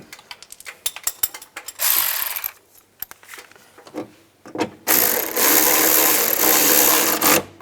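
Ratchet clicking on the fastener of an exterior door handle on a 2006-2011 Cadillac DTS, with short bursts of rapid clicks followed by longer, steady ratcheting runs, close and fairly loud, with no voices.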